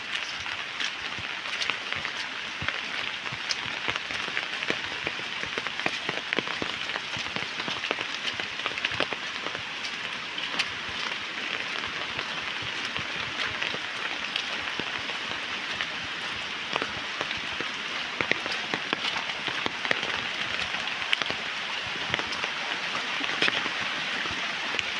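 Steady, dense rain falls in Chiplun, a continuous close hiss and patter of drops on surfaces that holds evenly for the whole stretch with no voices.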